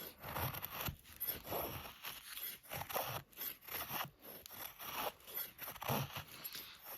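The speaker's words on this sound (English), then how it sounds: "We'll start with feather sticks." Civivi Cloud Peak knife with a fine-edged full flat grind shaving feather sticks from wood, giving quiet, close, repeated scraping strokes in a steady rhythm.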